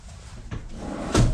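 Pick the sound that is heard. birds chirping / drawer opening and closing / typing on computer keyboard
drawer opening and closing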